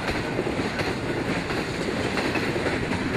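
Norfolk Southern 206, a high-priority intermodal freight train, rumbles past in Girard, Pennsylvania with a loud, continuous roar of wheels and rail cars and faint clickety-clack, close and steady throughout.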